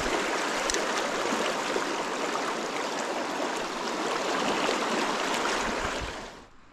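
Fast river water in Cheeseman Canyon rushes in a steady, loud, broadband roar that carries on unbroken with no voices, then drops away at the very end.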